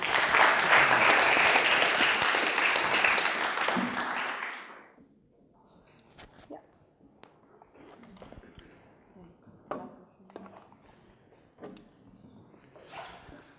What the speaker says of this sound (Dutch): Dus een heel hartelijk applaus, Koen Hindricks.